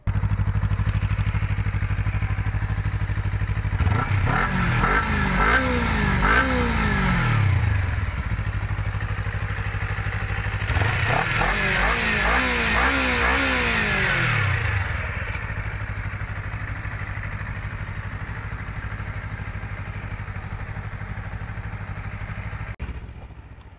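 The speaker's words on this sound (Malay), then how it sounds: "itu adalah bunyi Honda CBR" 2021 Honda CBR250 motorcycle engine idling close by, then revved hard twice in two long sweeping bursts that climb and drop, settling back to a steady idle afterward.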